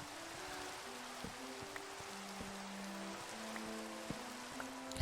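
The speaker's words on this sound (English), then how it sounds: "I feel like it's always raining when I have been at the base recently." Steady rain falling in the video game Minecraft, a soft continuous patter and hiss that holds level throughout, with faint low game tones underneath and no talking.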